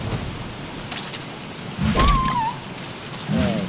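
Frog rain in the video game Don't Starve Adventure: steady hissing rainfall with low rumbles, a couple of croaking calls and a brief gliding tonal game sound over it.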